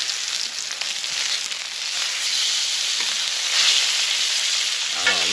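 Steaks sear over an open fire for a rare Italian steak pizzaiola, giving a steady, loud, close hiss and sizzle that holds evenly for several seconds with no talking, ending in a brief soft knock.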